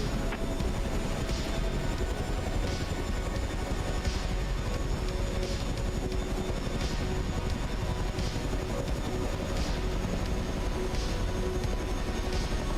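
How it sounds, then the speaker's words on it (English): Helicopter flying in a flight-simulator game, MSFS 2024: a continuous loud engine and rotor drone with faint regular pulses every second or so, unbroken and with no talking. "One gripe with the helicopter missions in this game is that there's no like separate camera or separate HUD"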